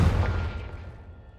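Confringo fire spell blast in Hogwarts Legacy, a single deep explosive boom with a heavy low-end thump that decays into a fading rumble over about a second.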